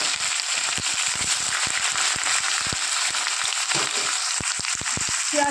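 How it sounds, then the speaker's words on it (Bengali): Chopped onion tipped into hot oil over browned crushed garlic while tempering masoor dal; a loud, continuous close sizzle packed with sharp crackles and pops throughout. "এবার দিয়ে দেবো কুচনো পেঁয়াজ।"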